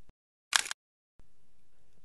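A single-lens reflex camera shutter fires at 1/30th of a second, one brief, crisp mechanical click heard close and alone against silence.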